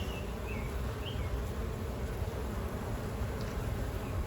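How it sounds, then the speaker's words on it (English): A dense, soft hum of many honeybees buzzing together at a hive entrance, steady and fairly quiet, with no other sounds standing out. "See lots of bees coming in with pollen."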